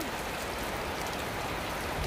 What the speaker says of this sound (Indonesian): Udan dulur, ngiyup lho nek gak percaya lho.